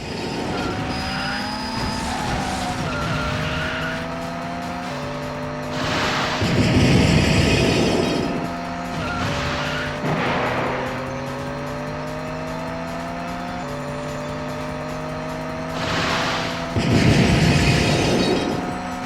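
Touring car engines rev and whine through gear changes in TOCA Championship Racing, a PlayStation racing game, with bursts of tire squeal and crunching impacts recurring every few seconds; loud, close and continuous, with no talking.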